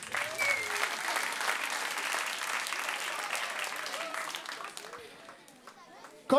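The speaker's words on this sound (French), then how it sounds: "Est-ce qu'on peut applaudir Nico?" Children and families at a family church service applaud together, a dense wash of clapping that holds steady, then thins and fades near the end, with some voices mixed in.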